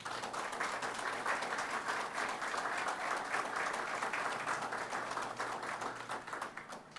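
An audience applauds at a topping-off ceremony for a graduate student residence in Boston, a steady, even round of clapping from a moderately distant crowd lasting several seconds, with no talking over it.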